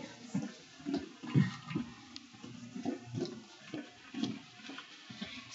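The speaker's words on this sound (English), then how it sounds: "wash my hands." A clinician washes hands under running tap water during a head, ears, eyes, nose and throat exam, with soft irregular splashing and rubbing at a steady moderate level, no talking.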